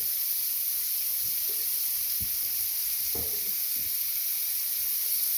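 Garlic and butter sauce sizzle steadily in a pan, a soft continuous frying hiss with a few faint stirring clicks and scrapes, close and even throughout with no talking.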